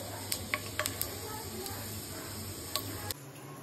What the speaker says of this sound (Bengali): আমি একটা কড়াইতে তেল গরম করে 1 চা চামচ পরিমাণ 5 ফোড়ন দিয়ে নিলাম